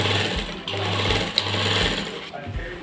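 A sewing machine stitches a shirt beside the collar, running in short loud bursts with a close, buzzing motor hum and brief stops between runs.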